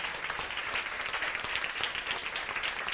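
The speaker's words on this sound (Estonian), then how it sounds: "Teeme aplausi Priidule." Conference audience clapping for a speaker, a fairly quiet, even patter of many hands with a few sharper claps poking through, sustained without talk over it.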